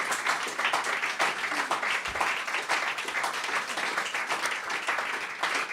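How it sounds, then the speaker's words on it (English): Applause for a folk singer-songwriter after a small live performance, brisk dense clapping that holds steady and close for several seconds with no talking over it. "let's just hear one more round of applause"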